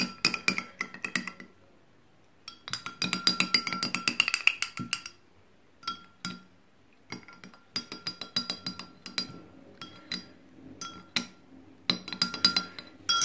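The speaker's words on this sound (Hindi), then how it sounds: "अब आपने इसको अच्छे से मिक्स करना है।" A spoon stirs an apple cider vinegar and honey drink in a glass, giving bursts of bright, rapid clinking separated by short silences. The sound is close and moderately quiet, with no speech.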